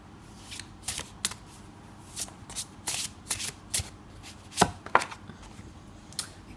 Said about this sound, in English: Let's lay out one more card here for you